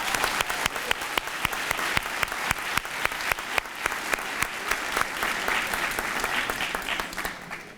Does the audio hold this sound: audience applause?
yes